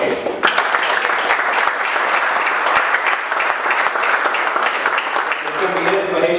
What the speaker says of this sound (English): with a great round of applause, let us welcome our special guest of the day, Mr. Sundar